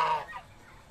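A short fowl call from farm-raised turkeys kept for crossbreeding with white turkeys, one brief honking gobble near the start that fades quickly into quiet background.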